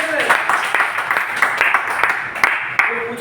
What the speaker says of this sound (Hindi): तो बजाओ एक बार जोरदार तालियां।